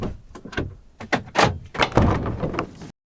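The back door of a camper van is handled in a rapid series of loud, close knocks, thuds and rattles, ending in a final clunk before sudden silence.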